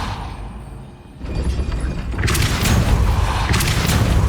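Depulso spell impact in Hogwarts Legacy: a quiet lull, then a heavy thudding boom followed by a crackling, rumbling burst that stays loud to the end.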